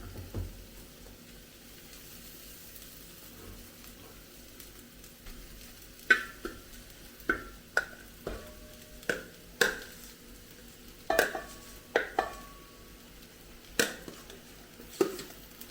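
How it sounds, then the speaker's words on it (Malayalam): Cooked rice stirred into egg masala in a pan over low heat, a low sizzle running under a string of sharp spoon scrapes and knocks in irregular bursts, close and alone. "ഇനി നമുക്ക് നമ്മൾ എടുത്ത് വേവിച്ച് വെച്ച ചോറോട് അതിനകത്തേക്ക് ചേർത്ത് കൊടുക്കാം"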